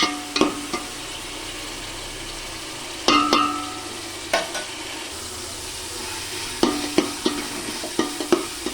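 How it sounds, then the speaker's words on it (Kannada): Tomatoes frying in oil in a pan, with intermittent stirring scrapes and clatters over a steady low sizzle, close up and without talk. "ಟೊಮೊಟೊನು ಎಣ್ಣೆ ಬಿಟ್ಕೋಬೇಕು, ಅಲ್ಲಿವರೆಗೂ ಅದು ಚೆನ್ನಾಗಿ ಫ್ರೈ ಆಗಬೇಕು"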